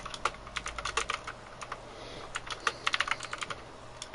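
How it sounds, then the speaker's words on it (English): Rapid clicking of keys on a computer keyboard, close and distinct, in irregular bursts of typing with short pauses and no speech. "I'm typing on my keyboard now. Oh, that's what I was hearing."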